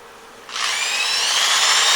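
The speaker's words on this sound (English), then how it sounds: "I'll keep sanding until I don't see any marks in it" Sandpaper held against a spinning solid wood holiday tree decoration on a lathe running slowly in reverse, a steady, close rushing hiss that starts abruptly after a moment of quiet motor hum and holds loud to the end.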